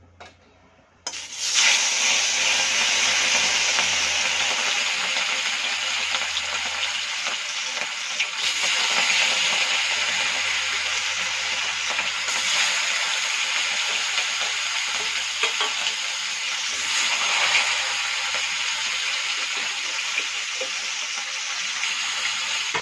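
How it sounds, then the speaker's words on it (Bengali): Fish sizzles steadily in a hot pan in a home kitchen, a loud continuous frying hiss that starts abruptly after a brief quiet moment and carries on alone, with occasional stirring shifts. "মাছটা ভাজা হোক"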